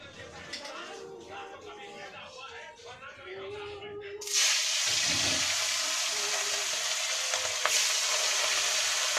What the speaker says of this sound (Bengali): এখন আমরা মাছ ভাজা খাবো, তাই মাছ ভাজছি।